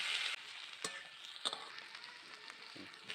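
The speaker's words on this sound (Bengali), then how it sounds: "এখন আলুগুলো দিয়ে দেব। এখন ভেজে নেব।" Potatoes frying in oil in a home kitchen for an egg and potato curry, a soft steady sizzle with a few sharp clicks and spatters scattered through, close and fairly quiet, no voices.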